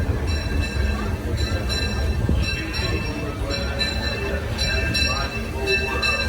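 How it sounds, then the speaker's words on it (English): Disneyland Railroad train rolling into Main Street Station, a steady rumble of wheels and carriage noise with faint clicking, under a continuous backdrop of people talking. "please remain seated until the train comes to a full and complete stop"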